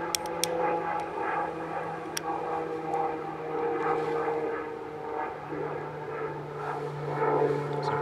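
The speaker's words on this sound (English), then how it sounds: "Sorry about that bloody plane" An airplane drones overhead with a continuous, moderately loud propeller-like engine rumble that swells and fades slightly, mixed with some outdoor rustling and a few sharp clicks near the start.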